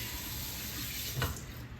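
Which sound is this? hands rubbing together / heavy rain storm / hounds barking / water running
water running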